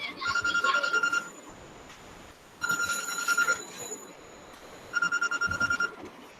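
A mobile phone ringtone for an incoming call rings in three repeated bursts with pauses between, a tonal melodic pattern heard faintly in a room with background noise.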